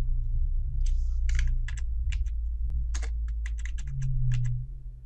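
Fingers type on a computer keyboard during play of the game The Eternal Cylinder, a quick irregular patter of close clicks over a steady low background hum from the game.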